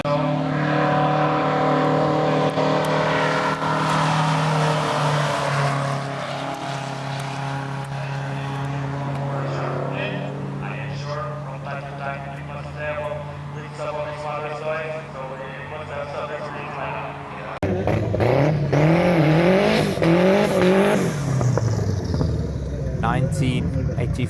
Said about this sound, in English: Nineteen 85 Porsche 944 Turbo Cup